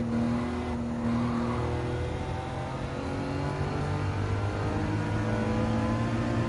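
A racing car engine in the Gran Turismo 7 video game drones steadily on a road circuit during a Historic Sports Car Masters race, with a constant sustained tone and a slight rise in pitch, loud and continuous and with no speech over it.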